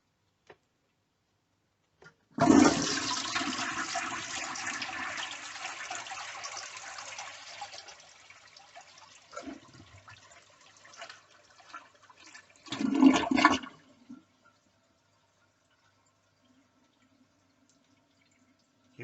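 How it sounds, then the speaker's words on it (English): A 1954 Eljer Waco toilet flushes in a quiet bathroom, a loud rushing gush that gradually tapers into trickling refill, then a second short surge of water before it drains away into near silence. "Here is a test flush."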